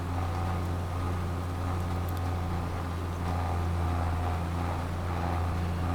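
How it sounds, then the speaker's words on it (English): A tractor drives across a field in Farming Simulator 22, its engine making a steady low drone with a constant hum that holds at an even level throughout, with no talk. "Tractor's doing great."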